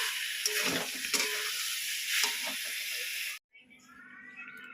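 Pumpkin with chickpeas cooking in a tempering of panch phoron and dried red chilli, a steady close hiss and sizzle of frying for a few seconds, then it cuts off abruptly to a quieter, fainter simmer.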